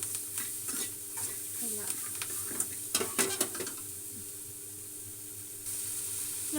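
Tomato chutney ingredients fry with a steady sizzle in a pan, broken by clustered scraping stirs partway through, close and fairly loud.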